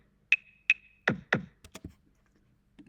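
A short sequence of MIDI drum kit hits played back in a DAW: two bright clicky strikes, two deeper booming thumps, then a few quick snappy hits, played cleanly with nothing else.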